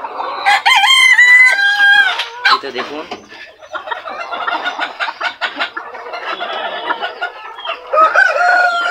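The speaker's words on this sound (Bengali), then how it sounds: "ফ্রিজেল এবং মল্টেড কোচিন জাতের মুরগি এই তো মারামারি করতেছে" Frizzle and mottled Cochin bantam chickens squabble in a noisy, busy flurry of loud clucks, squawks and crowing nearby, with a brief spoken remark in between.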